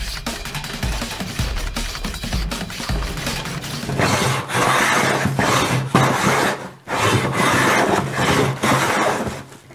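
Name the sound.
hand plane shaving wood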